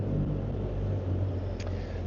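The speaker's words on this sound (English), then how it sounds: "I'm standing out here with all this traffic going on" Steady low road-traffic rumble outside a window, car engines droning continuously at moderate level with a faint brief higher hiss near the end, no talking.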